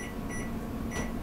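A few short electronic beeps from an oven timer sound in a quick, evenly spaced pattern over a low steady hum.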